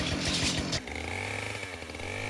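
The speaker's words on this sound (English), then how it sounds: "And here I'm just docking it to length with the chainsaw" A chainsaw docks a rose gum log to length, starting with a loud, rough, chattering cut that drops abruptly to a steady high-revving whine with a lower idle-like drone, close and without talk.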